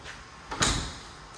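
Solid wood front doors of a farmhouse open, giving a single short, fairly close thump or swing with a soft whoosh amid a steady background hiss.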